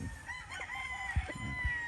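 Gamefowl cluck and a rooster crows faintly in the background, with a few nearer bird calls breaking through over a quiet gamefowl farm in Arayat.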